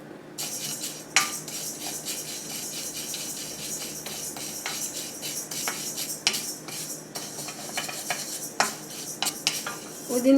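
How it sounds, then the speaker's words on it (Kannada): Urad dal dry roasting in a pan, a spoon stirring and scraping with irregular metallic clinks and taps over a soft background hiss, close up and without speech. "ಈಗ ಉದ್ದಿನ ಬೇಳೆ ಹುರಿಯೋಣ"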